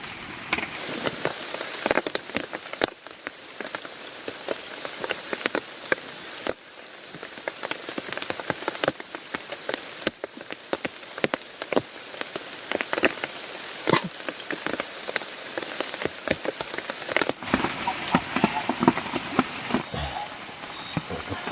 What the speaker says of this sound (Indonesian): Karena di luar hujan terus